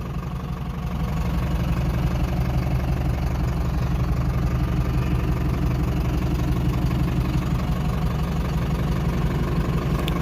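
A second-hand 2013 709 EX truck in good condition, with about 113,000 on the clock, idles steadily. Its diesel engine chugs with an even low rhythm at close range after a brief start, with no talking.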